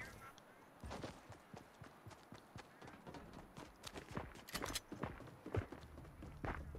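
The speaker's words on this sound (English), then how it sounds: "I'm hearing footsteps." Footsteps in the Fortnite video game come as a fairly quiet, uneven run of sharp clacks over several seconds, with a faint voice in the background.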